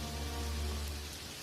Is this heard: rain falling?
yes